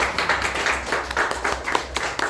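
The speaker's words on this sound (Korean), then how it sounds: "우리 잘 준비할 수 있도록 격려의 박수 보내주시기 바랍니다" A church congregation clapping in encouragement during a Sunday worship service, with a dense, lively round of handclaps that is close and fairly loud and continues for the whole stretch.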